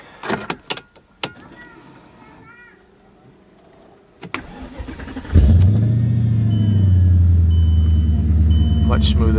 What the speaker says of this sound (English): let's go ahead, fire it up again, and just keep an eye on everything